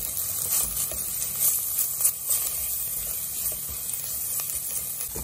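Chopped garlic added to browned onion frying in a pan, making a close, steady crackling sizzle with small pops and stirring scrapes throughout.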